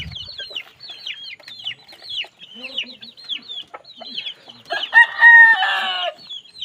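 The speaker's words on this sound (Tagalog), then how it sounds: "Purma kay nga manok ko." A rooster clucks repeatedly in short bursts, then breaks into a loud, close crow near the end, with quieter fowl calls scattered throughout.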